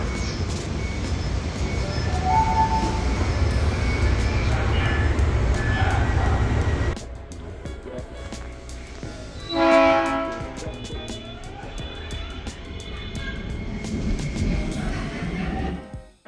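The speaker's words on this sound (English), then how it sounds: "This is the eastbound train to Johns Hopkins." A Baltimore Metro subway train with new Hitachi-built cars rumbles steadily as it carries riders, then grows quieter after a few seconds. Brief tonal chimes and squeals follow, with faint voices nearby.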